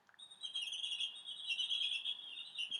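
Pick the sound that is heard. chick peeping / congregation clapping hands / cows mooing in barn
chick peeping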